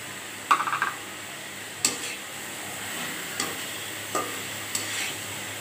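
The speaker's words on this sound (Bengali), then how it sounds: "টমেটো দিয়ে নাড়িয়ে চাড়িয়ে" Tomato being stirred into frying cabbage for a Bengali village-style cabbage bhaji: scattered scraping clinks of a spoon against the pan over a soft, steady sizzle, with several distinct knocks spread across the moment.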